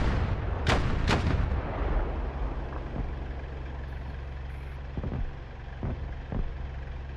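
Artillery rounds fire in the combat flight game DCS World, two heavy booms close together at the start, then a few fainter thuds trailing off over a constant low rumble.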